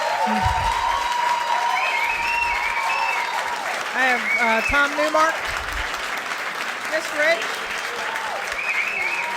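Sustained applause from an audience during public comments at a board meeting, fairly loud and even, while someone speaks over it near the microphone.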